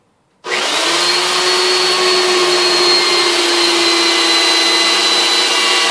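A power drill runs steadily and loudly, starting abruptly and holding a constant whine as it bores a hole through a laminated wooden Viking-style round shield built from modern materials.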